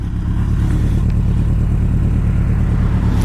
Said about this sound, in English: This bike runs good.